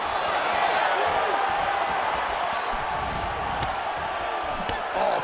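Arena crowd in the EA Sports UFC 4 video game during a mixed martial arts bout featuring Adesanya, a steady loud roar of cheering and crowd noise that fills the whole moment without letup.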